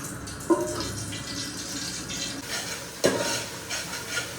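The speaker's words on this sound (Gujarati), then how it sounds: "અહીંયા હવે આપણે દાળનો વઘાર કરી લીધો છે" Oil sizzles steadily in a pan as dal is tempered, with a stirring, frying texture and two sharper clatters of utensils against the pot; no one talks.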